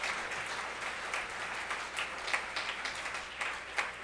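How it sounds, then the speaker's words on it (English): Audience applause at the Jewish Schools Awards 2020 ceremony, a steady, faint wash of many hands clapping that holds evenly for the whole stretch with a few slightly sharper bursts. "I want everybody to give them all an enormous round of applause"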